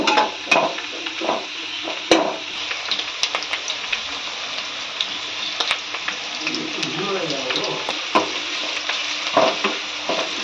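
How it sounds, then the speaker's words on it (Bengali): Chopped onions frying in hot oil for a chicken dish, a steady close sizzle with repeated scraping stirs of a spatula in the pan, no voices over it. "তেল গরম হয়ে গেছে, এবার পেঁয়াজ কুচিগুলো দিয়ে দেবো। দিয়ে একটুখানি নেড়ে চেড়ে নেব।"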